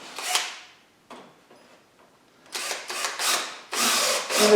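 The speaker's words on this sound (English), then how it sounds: "I'm going to put a screw right through the strap into" A power driver sinks a small wood screw through a strap into a 2x2 wooden leg, giving short whirring bursts that start, stop and start again, loud and near, with quiet gaps between.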